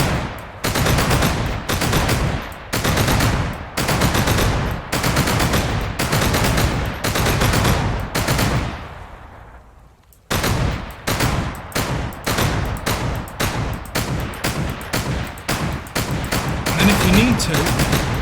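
A gun in Sunkenland fires in short, loud, regular bursts, each clipped cleanly into rhythmic chunks, with a brief lull to silence partway through before the bursts resume at the same steady pace.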